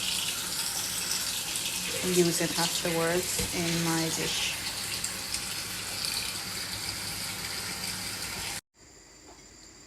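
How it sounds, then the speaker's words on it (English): Tap water runs steadily into a sink as spinach is rinsed for a Jamaican cornbeef and fish pie, a constant close splashing rush with a voice talking over it partway through before the flow cuts off near the end. "So I'm just washing some spinach to go use after"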